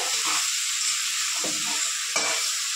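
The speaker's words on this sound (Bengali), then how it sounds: "এবার দিয়ে দেব সেদ্ধ করা আলু আর কচু" Boiled potato and taro hit hot spice masala in a pan with a loud continuous sizzle, close and alone, broken by a few soft stirring scrapes.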